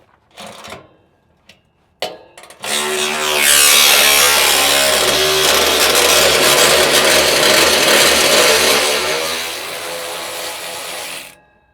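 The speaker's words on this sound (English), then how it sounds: "So we're going to take this clamp loose." A clamp on a Freightliner DPF box is being loosened. A few short clicks give way to a loud, steady mechanical ratcheting whir that runs for several seconds up close before it cuts off.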